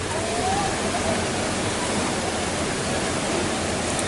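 Tarunggang waterfall pours as a loud, steady broadband roar of falling water, filling the whole stretch without pause; faint speech may sit beneath it.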